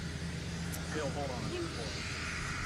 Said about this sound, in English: Hang on, we're going to let this plane pass.